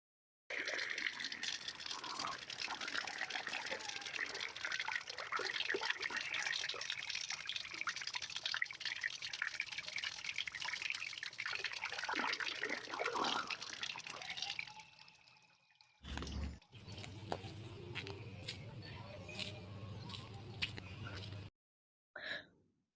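Drinking water running to waste from an open tap, a steady close splashing and trickling stream that continues for about fifteen seconds before breaking off, then short bursts with low hum.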